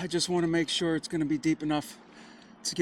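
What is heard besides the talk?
None of the usual background noises is heard.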